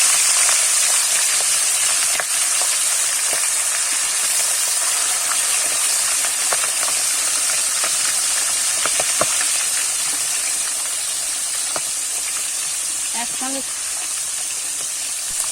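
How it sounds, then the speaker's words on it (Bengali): Fish heads coated in salt and turmeric fry in hot oil for a village-style fish-head and malabar spinach dish, giving a loud, steady sizzling hiss that runs unbroken throughout. "সবার প্রথমে কিন্তু নুন হলুদ মাখানো মাছের মাথাগুলো ভেজে নেবো"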